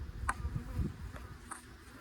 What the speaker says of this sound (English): I do see some drone bees here